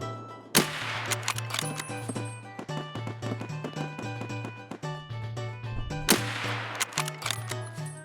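Mosin rifle shots in Escape From Tarkov: two sharp, loud cracks about five seconds apart, set in a game soundtrack of steady low tones and rhythmic clicks.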